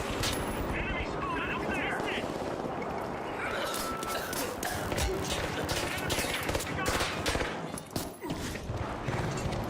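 An automated turret firing in THE FINALS, rapid repeated gunfire loud and close amid game noise, with a voice talking over it.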